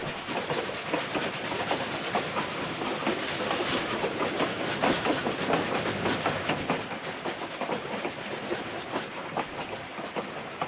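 Train cars roll along in Tomb Raider 4 Remastered with a loud, continuous rumble, rhythmic clickety-clack and hissing, steady throughout with no voices.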